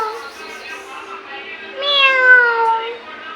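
A cat meows close by in a village home, drawn-out tonal cries that rise in a louder, longer meow toward the end.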